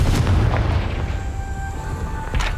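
Confringo blasting spell exploding in the Hogwarts Legacy video game, a deep booming blast followed by a rumbling tail, with a second burst near the end.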